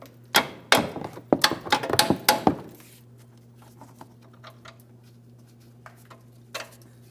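Sharp metallic taps ring out in a quick irregular burst as a cam is knocked off its bolt on a 2007-2014 GMC Sierra 2500 HD front upper control arm, then fade to a few scattered faint knocks over a steady low hum.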